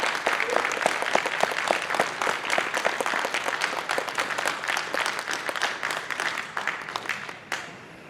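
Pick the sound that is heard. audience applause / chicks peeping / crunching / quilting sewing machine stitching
audience applause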